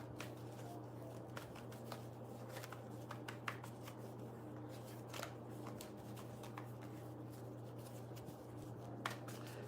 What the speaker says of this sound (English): I just keep shuffling until I really feel like it's done.